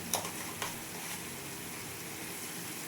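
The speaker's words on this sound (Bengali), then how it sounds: "এগুলো আমি খুব ভালোভাবে নাড়াচাড়া করে লবণ আর চিনি মিশিয়ে নিলাম" Semolina pulao ingredients stirred with salt and powdered sugar in a pan: a faint, even sizzling hiss with a couple of light scraping clicks near the start, quiet and steady, with no talking.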